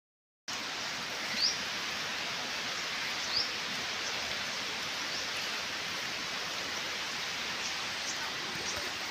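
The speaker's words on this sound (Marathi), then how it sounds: "पहा आमच्याकडे कसा पाऊस चाललाय सारखा" Steady rain falling in a rural farmyard, a constant even hiss at moderate distance with a couple of faint chirps above it.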